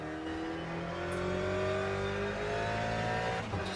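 A Ferrari LMGTE race car on cold tyres at Portimao in Le Mans Ultimate spins donuts, its engine holding a steady loud drone with a rising pitch, constant and close throughout with no talk.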